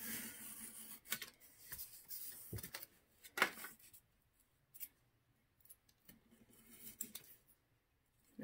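Scissors snip paper for a small dollhouse book, a series of close, crisp cuts in irregular bursts with quiet pauses between them and no voices.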